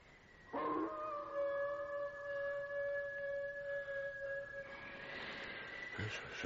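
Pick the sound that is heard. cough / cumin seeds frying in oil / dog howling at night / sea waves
dog howling at night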